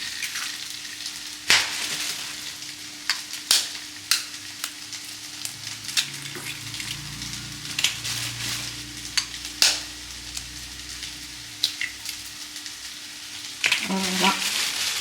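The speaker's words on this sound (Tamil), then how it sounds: "அந்த சட்டியே வச்சு நம்ம முட்டையை பொரிச்சுக்கலாம்" An egg fries in a pan with a constant hissing sizzle, broken by sharp spatula scrapes and clanks, with a low hum and brief stretches of background voices.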